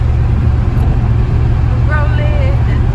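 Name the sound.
Chevrolet C4 Corvette engine running with a hesitation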